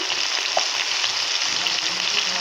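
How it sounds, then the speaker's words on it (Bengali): Spices and chili powder hitting hot oil in a pan, a dense, even, loud sizzle that holds steady throughout with a faint stir or two and no voices. "গরম হয়ে গেছে মশলাটা দিয়ে দিলাম মরিচের গুঁড়ো দিয়ে দিলাম"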